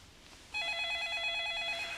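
A telephone rings at night in a film scene, starting after a brief quiet pause and then ringing steadily and clearly at moderate volume.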